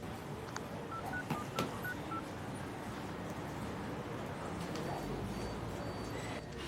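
Telephone keypad tones sound as a number is dialed, a quick series of short beeps early on, followed by quieter background noise.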